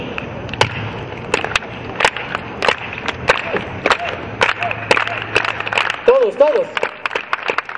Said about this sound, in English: who does the United Farm Worker clap? I'm going to start leading it.